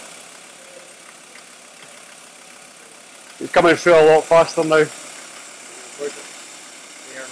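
A diesel engine idles steadily in a workshop while someone speaks briefly over it during an intake cleaning treatment; the engine note stays low and even.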